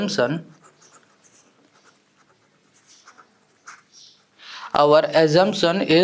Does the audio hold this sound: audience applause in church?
no